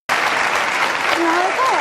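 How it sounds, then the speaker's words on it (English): Dr. Phil's studio audience bursts into steady, loud clapping, with a voice briefly sounding over the applause near the end. "Watch the clap."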